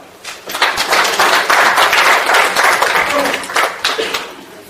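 An audience at a National Assembly seminar marking the 70th anniversary of liberation breaks into loud, sustained applause, many hands clapping densely and evenly from start to finish.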